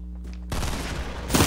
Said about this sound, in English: Oh, we both shooting each other.